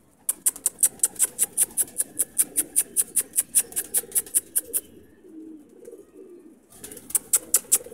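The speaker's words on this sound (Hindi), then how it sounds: "ये नीचे उतरेंगे ना कबूतर," Pigeons at a feeding spot give soft, low cooing beneath a loud run of rapid, evenly spaced sharp clicks that stops for about two seconds and then resumes.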